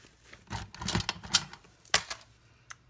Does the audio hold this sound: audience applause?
no